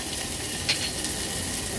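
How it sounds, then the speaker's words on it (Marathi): Ginger, garlic and green chilli thecha sizzling steadily in hot ghee tempering with mustard seeds, cumin, curry leaves and hing, a continuous close frying hiss with one brief stir clink. "थोडीशी फोडणी आहे ना आपल्याला अशी परतून घ्यायची आहे"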